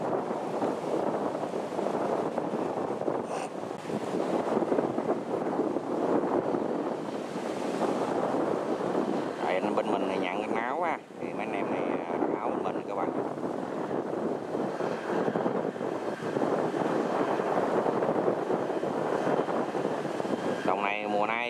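Strong wind buffets the microphone in rainy weather during a rice harvest with two 105-series combine harvesters, a constant loud roaring rumble that runs throughout with a brief dip midway.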